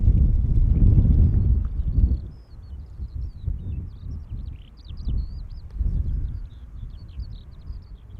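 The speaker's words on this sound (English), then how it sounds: "I can hear chirping of birds." Small birds chirp outdoors at Schiphol airport, faint high repeated calls over heavy wind rumble and low background noise.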